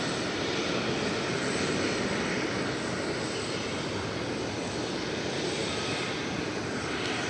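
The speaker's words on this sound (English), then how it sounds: "Our first arrival of the morning is going to be an American Eagle Embraer 175." An American Eagle Embraer 175 jet arrives at DFW Airport, giving a loud, continuous broadband engine roar that holds steady throughout the clip.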